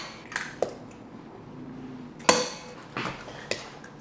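Two eggs are cracked into a bowl of creamed butter and sugar for banana bread batter: a few sharp, close taps and cracks against the rim separated by quiet moments, with faint soft squishing and light clinks, no talking.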